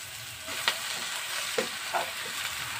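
Boiled potatoes, five large ones mashed, being stirred into a hot pan for masala dosa filling, giving a steady soft sizzle with a few scraping stirs at close range and no voices.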